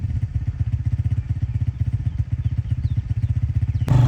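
Motorcycle engine running nearby, a loud, rapid, regular low thumping that continues steadily throughout and ends with a brief sharp noise.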